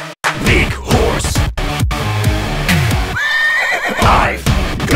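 A horse neighs once mid-way, a rising whinny over loud music with vocals.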